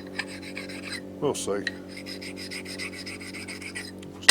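A hand file rasps rough edges off a metal part for a custom angle plate in a workshop, giving a steady run of scraping strokes, close up, with a brief mumbled remark partway through.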